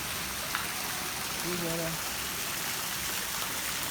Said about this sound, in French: La cascade d'eau